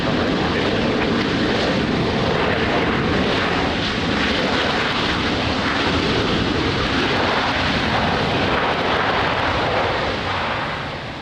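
Airliner engine roaring steadily and loudly at Lisbon Airport in rain, a dense continuous rumble that holds for the whole stretch and eases slightly at the end.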